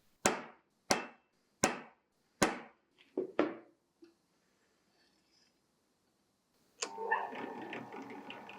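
Center punching and drilling pinholes in a steel knife blade: six sharp metallic hammer taps at an even pace, then a pause and a brief burst of buzzing drill noise at the end.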